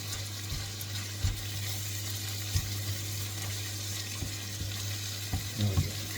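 Food frying in a wok for a hotpot, with a steady sizzle and low hum under scattered scrapes and knocks of a utensil against the pan, close and continuous with no talking.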